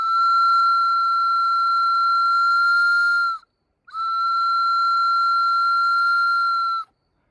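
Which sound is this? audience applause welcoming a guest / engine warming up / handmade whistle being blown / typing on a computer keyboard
handmade whistle being blown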